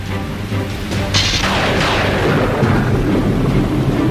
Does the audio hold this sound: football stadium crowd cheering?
no